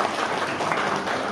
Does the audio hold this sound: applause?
yes